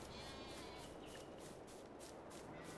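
Sheep bleating in the Farming Simulator 22 game, a steady bed of animal noise from a farm pen at moderate level, continuous across the whole moment without any voices.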